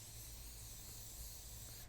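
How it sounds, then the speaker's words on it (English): Cooking spray hissing steadily onto the fins of portobello mushrooms, a continuous close spray that ends abruptly, with no talk over it. "Now I spray the fins quite generously because that's where we're going to season."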